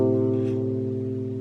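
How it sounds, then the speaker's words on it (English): A minor third interval sustains on a single instrument, two steady pitched notes held together for about a second and a half, clear and alone, with a gentle fade. "Today we're going to look at the minor third interval."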